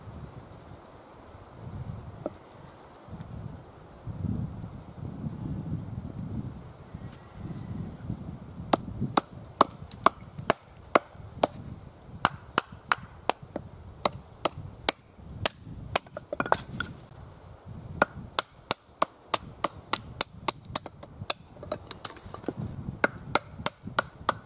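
Sharp, repeated chopping cracks of a slim 2.5mm Mora knife blade splitting wood outdoors, close and loud, irregular strikes accelerating through the second half over rustling and light wind noise.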